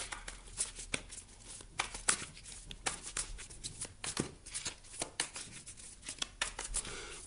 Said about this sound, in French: Je tire les cartes